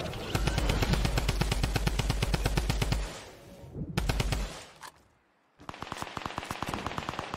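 Video game gunfire: rapid machine-gun bursts rattle in long, dense strings, stop briefly, then resume, loud and close with no voices.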